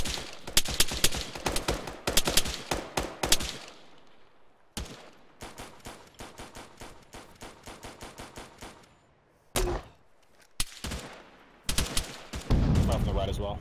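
Video game firefight with rapid bursts of automatic gunfire and single shots, loud and close, broken by brief pauses and ending in a rumbling blast.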